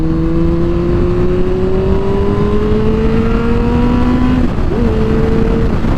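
A 1997 Kawasaki Ninja ZX7R with a full 4-into-1 header exhaust, a loud close engine drone whose pitch climbs steadily as it revs, then dips briefly and settles again near the end.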